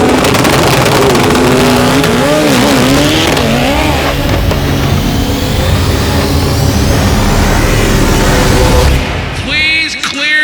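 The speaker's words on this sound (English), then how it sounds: "As soon as I launch the car in round 3 qualifier, the car actually comes alive out of the hole" The Black Zenith EVO drag race car launches off the line in a qualifying round at the World Cup Finals, a deafening engine scream with tire squeal that holds steady before cutting off abruptly.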